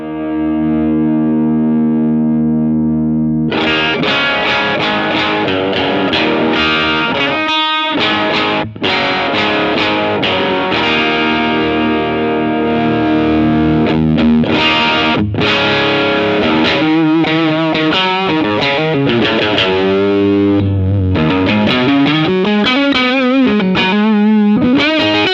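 An electric guitar played through a Mark II take on the Lovetone Brown Source overdrive pedal gives a loud, raucous British-style distorted tone, with sustained notes, chords and bending, warbling lines filling the whole stretch without any voice.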